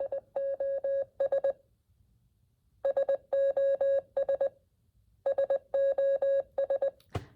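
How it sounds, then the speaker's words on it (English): An SOS Morse code signal is sounded as a clean electronic beep tone, three dots, three dashes and three dots, repeated about three times with short pauses in between, clear and alone. "SOS, which is a distress call, and it's 3 dots, then 3 dashes, then 3 dots, and it sounds like this."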